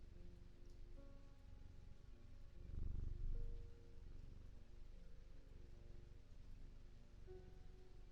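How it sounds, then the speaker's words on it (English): A cat purrs while being petted in a video game, a low steady rumbling purr that swells louder for a moment, then settles again under soft, faint background tones. "I'm just petting the cat to help me think"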